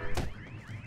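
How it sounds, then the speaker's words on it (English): An alarm goes off with a brief, wavering electronic tone that rises and falls, heard close and fairly loud for under a second with no voices. "Oh, there's that alarm."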